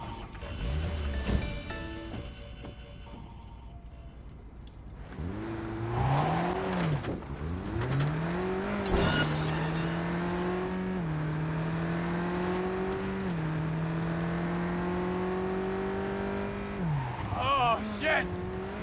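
In-game car during a police chase in Cyberpunk 2077, a steady rising and falling engine drone with tire squeal and skids, loud and continuous, with brief talk and other game noise at the start.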